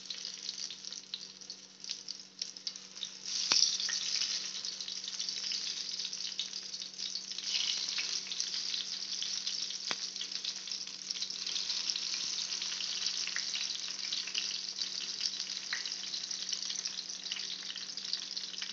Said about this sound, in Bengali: এটা আমি সানফ্লাওয়ার অয়েলে এটা ভাজবো